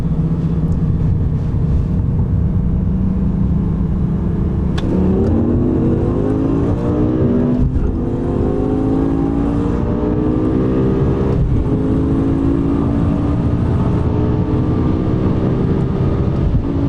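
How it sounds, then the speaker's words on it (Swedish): A BMW M6 V10 and a Lamborghini Gallardo accelerate hard from a second-gear rolling start at 50, their engines howling with rising pitch through several upshifts, loud and close. "Second gear from 50 rolling start. Red M6 against Gallardo from M5board.com."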